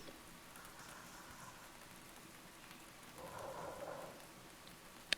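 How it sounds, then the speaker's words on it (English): Steady rain hisses through a dark hallway scene in the Mouthwashing game, a soft, even wash of falling drops that swells slightly near the end, with no one talking. "Why is it raining?"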